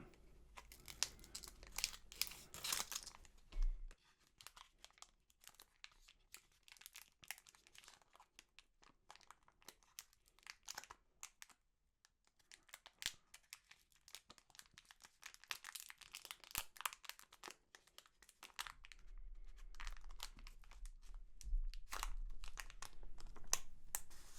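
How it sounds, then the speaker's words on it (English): Scissors snip and crinkle through a plastic Pokémon card pack wrapper in bursts of crunching and rustling, close up and fairly quiet, with pauses between cuts. "And we will open that with our trusty scissors once again."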